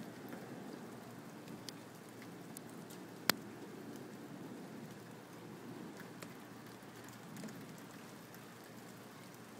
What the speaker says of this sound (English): It's starting to pour again.